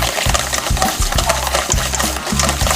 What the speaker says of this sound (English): Now we're just going to stir this around with a wide whisk.